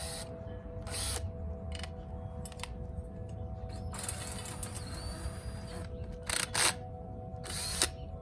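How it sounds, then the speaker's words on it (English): A power drill turning a garden auger whirs in bursts, revving up and cutting out several times over a steady mechanical hum. "Just hook straight into your drill."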